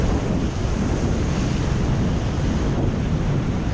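Surf rolling in on an island shore as the tide rises, a steady broadband wash of waves with wind buffeting the microphone, continuous and fairly loud with no talking.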